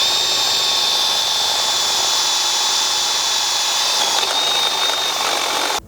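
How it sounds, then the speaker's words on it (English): A power drill bores a hole through a bumper mount on a third-generation Toyota 4Runner, giving a steady, loud whine with a sustained high pitch that holds for several seconds before stopping abruptly. "and then drill this out"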